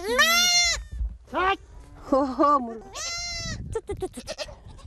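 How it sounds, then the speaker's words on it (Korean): Baby goats on a farm run by a Mongolian nomad family bleat in several loud, wavering calls close by, with a couple of people speaking in between. "새끼에게 젖을 물릴 수 있도록 아기 염소를 어미의 품으로 돌려보내주는데요"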